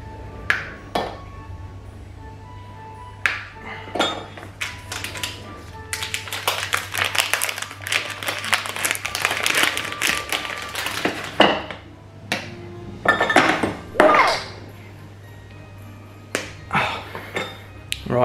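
Clinks and taps of dishes and utensils ring out around a microwave while chocolate melts, with a bright ding among the clattering, a steady low hum underneath, sharp close knocks and bursts of rustling.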